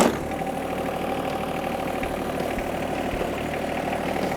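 A John Deere 1025R compact tractor runs at a steady idle, a close, continuous mid-pitched diesel drone with a faint knocking pulse and no speech.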